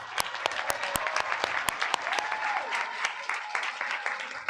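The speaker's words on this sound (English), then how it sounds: "Round of applause" Applause at a PA class of 2022 graduation ceremony, a crowd clapping with sharp nearby individual claps standing out and loud whoops and cheers rising over it.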